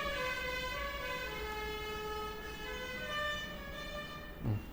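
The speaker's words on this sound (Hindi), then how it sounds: "हॉर्न भी मारेगा तो गाने वाला हॉर्न मारेगा।" A musical vehicle horn outside plays a tune of sustained stepped tones, fairly strong and continuous for several seconds, followed by a brief low thump near the end.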